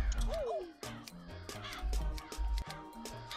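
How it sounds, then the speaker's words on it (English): A crow caws repeatedly in the Pogostuck video game, loud harsh calls in an uneven rhythm over a busy game soundtrack. "This crow just swooped down and tried to give me a kiss."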